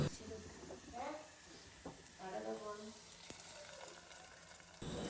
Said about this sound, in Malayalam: ചെറിയുള്ളി ഒന്ന് എണ്ണയിൽ മൂപ്പിക്കുന്നുണ്ട്